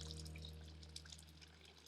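Water is poured during cooking, a soft continuous trickle and splash over a low steady hum, faint and close.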